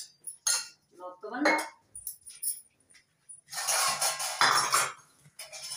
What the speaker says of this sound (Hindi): बर्तन लगा रही हैं अभी और बर्तन पड़े हुए हैं खाने के लिए